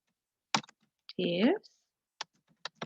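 Keys tap on a computer keyboard in scattered single clicks, quiet and close, with a brief stretch of voiced speech in the middle.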